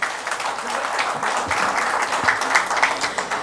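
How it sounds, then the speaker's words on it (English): Audience at a financial education leadership event gives a round of applause for a speaker from the fintech field, dense continuous clapping at moderate loudness with a few sharper claps, no voices over it. "A big round of applause for Mr."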